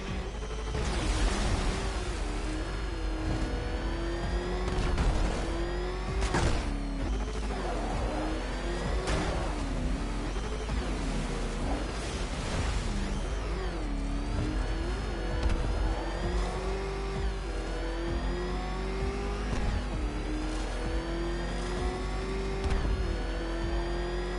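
A car engine in Batman: Arkham Knight revs and accelerates continuously, rising and falling pitch sweeps of a mid-range motor over a constant low rumble, loud and close throughout.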